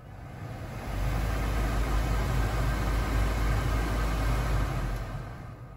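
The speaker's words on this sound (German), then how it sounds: "jetzt kann man das, glaube ich, gleich hören, wenn ich das Gebläse mal hochstelle" Heater blower fan of a VW Caddy 5, just repaired and turned up inside the car, ramping up into a steady, loud rushing whoosh of air with a low hum, then easing slightly at the end.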